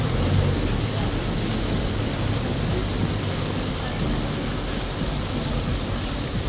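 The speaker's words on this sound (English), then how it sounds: "you know it's pouring out here" Heavy rain pouring on the city-centre streets of Kuala Lumpur, Malaysia, a dense, loud, continuous hiss of rainfall that fills the whole stretch without letup.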